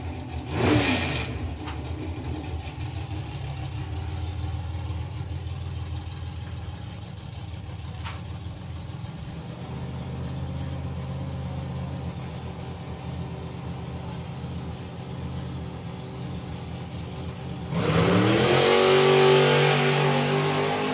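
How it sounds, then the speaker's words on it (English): A two-seater dragster at a drag racing event roars through a low 8-second pass, a loud engine burst at the start, a sustained distant drone through the run, then a strong close engine rise near the end. "So the two-seater dragster low 8-second passes."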